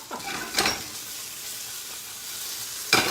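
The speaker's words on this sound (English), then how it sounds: "I've got some beautifully seared off gnocchis there" Gnocchi sear in a hot pan with a steady sizzling hiss, broken by a few louder bursts as they are stirred or moved, with no talk.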